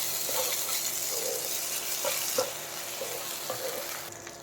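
A steady close sizzle comes from a rui fish curry with methi frying in a pan as green chili paste is stirred in, with soft intermittent scrapes of stirring over the constant hiss.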